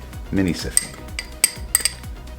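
A fork clinks and scrapes in a bowl, mixing protein powder with no sifter, in repeated sharp metallic taps and short stirring scrapes up close, with a brief low voice murmur early on.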